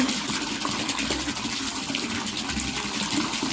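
Water pouring into a large catfish pond during a water change, a steady rushing gush of flowing water, close and continuous.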